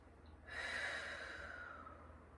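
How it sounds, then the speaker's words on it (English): A single long, slow deep breath taken during a yoga session, a soft airy rush that swells and then fades gradually, quiet and close with no talking. "Take one deep breath."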